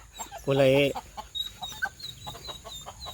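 A rooster lets out a short, loud, harmonic cluck up close, followed by softer scattered clucks and rustling, with a voice speaking faintly underneath.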